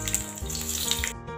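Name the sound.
panch phoron spices sizzling in hot koi fish frying oil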